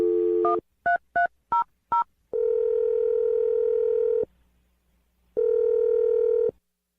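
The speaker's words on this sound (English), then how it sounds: "I'm going to dial the phone number right now." A telephone plays a short dial tone, then a quick run of separate keypad beeps, followed by two long, steady ringback tones with a pause between, clear and alone.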